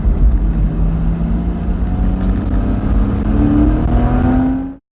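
A car engine revs hard and holds a rising, throaty exhaust note, loud and close, on Highway 1 in Gorda, before cutting off abruptly near the end.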